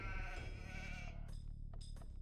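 A sheep bleats in Age of Empires II, a faint wavering cry over a steady low game ambience, followed by a few short quiet clicks.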